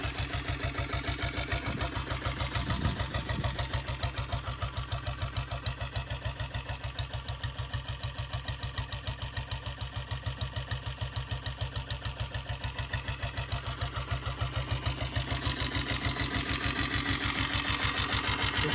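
A Royal Enfield diesel Bullet motorcycle idles with a rapid, steady thump, close and loud, running evenly for the whole stretch without a break.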